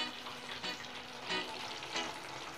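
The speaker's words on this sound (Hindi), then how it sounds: "इसे अच्छा गोल्डन ब्राउन होने तक हम इसे फ्राई करेंगे।" Chicken fries in oil to a golden brown, giving a dense crackling sizzle with brief louder pops, heard close for a few seconds without any talking.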